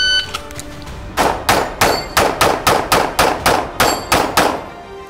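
Twelve rapid pistol shots ring off steel targets in quick, even succession during a timed shooting match, each a sharp clang with a short metallic ring, loud and close, with no talking.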